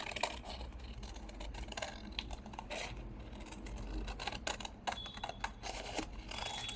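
Scissors roughly snipping through printed paper images for a Christmas junk journal, leaving white borders, a steady run of close, crisp cuts and rustles with no talking.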